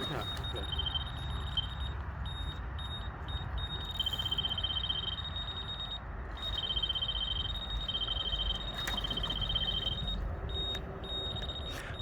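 Electronic bite alarms at a fishing pool beep in repeated runs of short high tones during a catfish and carp session, steady across the clip over a low outdoor rumble, with voices talking nearby.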